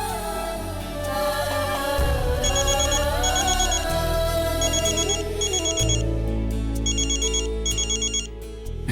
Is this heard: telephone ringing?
yes